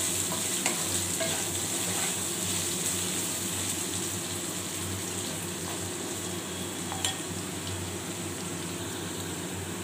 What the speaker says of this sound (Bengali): আলুটাকে একটু নেড়ে দেবো আবার